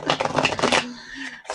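A new, thin, small deck of reading cards being shuffled by hand, a quick close riffle of papery flutters that runs for under a second and then falls away into quiet room tone.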